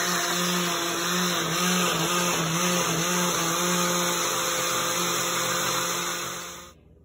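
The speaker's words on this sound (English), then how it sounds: "This is gonna be thrown to the blender with the tomato and the rest of the ingredients" A blender whirs steadily through tomato and guajillo pepper sauce, a loud, even motor whine that wavers slightly in pitch before cutting off abruptly near the end.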